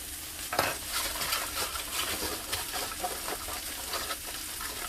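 Garlic butter pork chops sear in a hot pan, a steady close sizzle with scattered crackles and spatters running throughout, fairly loud and unbroken, with no voices.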